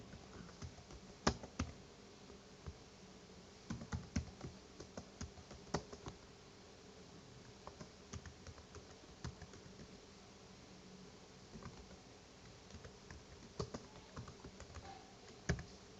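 Someone types on a computer keyboard, a steady patter of soft, irregular keystrokes with occasional sharper taps, close up against a faint background hiss and no talking.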